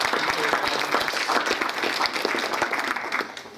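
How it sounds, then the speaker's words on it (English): An audience at a mural unveiling gives the artists a round of dense, lively applause. The clapping is sustained, with a few voices mixed in. "How about another round of applause for the artists and"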